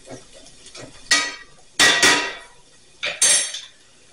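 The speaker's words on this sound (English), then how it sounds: "let's give that another little stir" Onions caramelizing in a pan are stirred with a utensil, giving a few short scraping, clattering bursts against the pan between quieter moments, close by with no voices.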